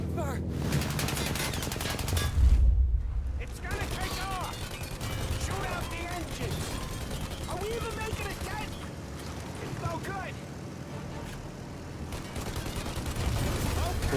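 Gunfire in the Mafia video game, with bursts of rapid automatic shots and explosions mixed with engine and water noise, loud and continuous while players talk over it.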